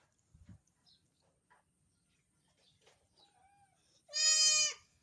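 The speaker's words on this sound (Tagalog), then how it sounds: "Ayan guys, mga kambing ko." A goat gives one loud, quavering bleat near the end after a few faint scattered rustles and distant farmyard noises, with no talking.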